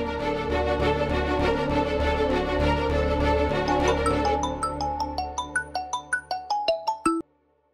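A phone's ringtone plays as a melodic electronic tune that ends in a run of distinct plucked-sounding notes before cutting off abruptly, loud and close with no voices.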